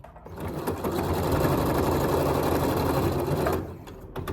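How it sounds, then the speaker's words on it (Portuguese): A sewing machine topstitches a belt, its needle chattering in a fast, steady run for about three seconds before slowing to a stop, close and fairly loud. "Faço a costura de pesponto do lado"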